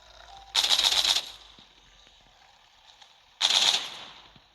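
Machine gun fire in the zombie shooter Walking Zombie 2: two loud sustained bursts of rapid automatic shots, each about half a second long and a few seconds apart, with quiet game ambience between.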